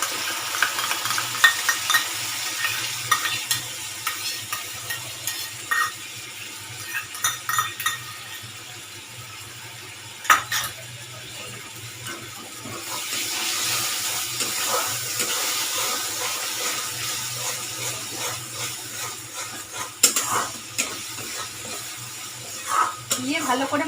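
Biryani masala with whisked sour yogurt stirred and fried in a pan for a home-style egg biryani, with a steady soft sizzle under repeated scraping and clinking of a spoon against the pan, close by.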